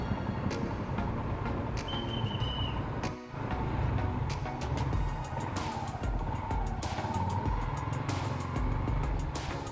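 Road traffic surrounds a motorcycle taxi during a ride, a continuous loud roar of engines and rushing wind. There are faint passing vehicle sounds and a brief dip partway through.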